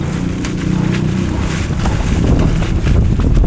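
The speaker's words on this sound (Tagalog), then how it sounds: "Biglang humangin ng malakas." A sudden strong gust of wind sweeps through a forest campsite in Nasugbu, a loud continuous roar that buffets the microphone and swells stronger partway through, with no talking.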